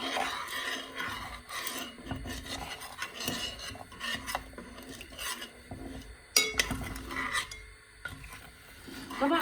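Oil heating in a pot being stirred, close scraping and rubbing strokes with occasional clinks against the metal, irregular and fairly quiet.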